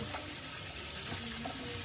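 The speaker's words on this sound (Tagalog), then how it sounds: "sira yung gripo namin" Water gushes steadily from a broken kitchen faucet, a constant splashing stream into a sink with no voices over it.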